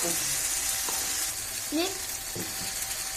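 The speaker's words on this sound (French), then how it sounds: "elle est en train de les faire cuire avec de l'huile de tournesol et de l'huile d'olive" Sliced onions frying in a mix of sunflower oil and olive oil, a close, steady sizzle with soft stirring scrapes and no talking.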